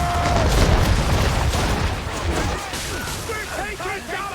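Ship cannons in the Assassin's Creed 3 naval game boom heavily in a dense, rumbling volley for the first couple of seconds, then fade under shouting voices and swirling battle noise.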